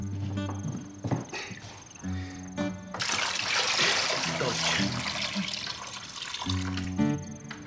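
Water splashes and trickles into a basin for an herbal foot soak, with a dense pouring burst in the middle, heard up close while voices speak at the start and end.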